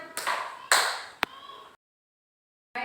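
A few sharp hand claps keep time with a children's clapping song sung by a voice, with separate loud claps and a brief silent gap before sound resumes.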